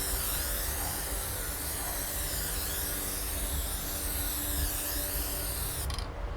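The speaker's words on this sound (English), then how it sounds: "go ahead and spray glue onto the cardboard box" Spray glue hisses steadily from an aerosol can onto a cardboard box during a motorcycle saddlebag liner install, a continuous close broadband spray that runs almost unbroken and cuts off abruptly near the end.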